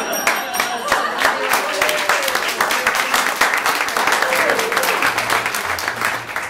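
Loud, dense applause and clapping from an improv comedy show audience fills the whole stretch, with cheering voices mixed in and a steady roar that fades slightly near the end.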